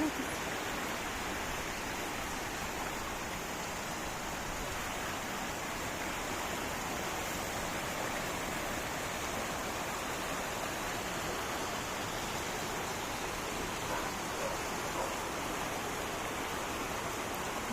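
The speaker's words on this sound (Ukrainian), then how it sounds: "Це гірська річечка, я не знаю." A small mountain stream flows steadily in a hillside setting, a constant soft rushing wash of water that stays even and moderately faint throughout with no other sounds on top.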